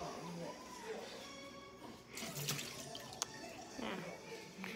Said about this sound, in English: Do I just pour the water in the sink?